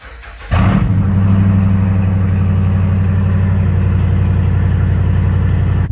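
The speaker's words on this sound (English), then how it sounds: "Well, let's go ahead and fire this thing up." A Jeep Rubicon 392 V8 engine cranks and catches with a sudden loud roar, then settles into a steady, deep, throbbing idle close by.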